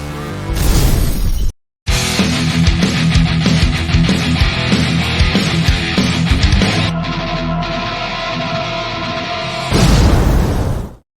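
Explosions from the 1980s action movie Predator, a dense, loud and continuous run of booms, crashes and debris over about eleven seconds, broken by one brief silent gap near the start.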